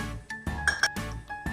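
Ice cubes clink against a blender jar while a homemade mango milkshake is being prepared, giving a few sharp, bright glassy knocks in quick succession, close and fairly quiet, with no talking.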